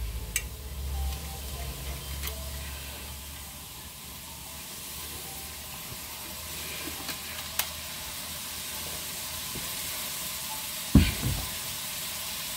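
Sausages fry in olive oil with a steady, moderate sizzle and hiss that runs throughout, broken by a few soft clinks and a brief louder clatter near the end.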